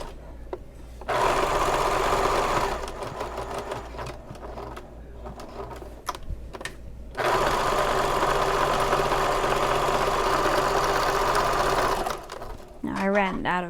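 A sewing machine runs in sustained steady stretches while stitching bag lining folded in half, with a short slower section between two long runs and a low hum underneath.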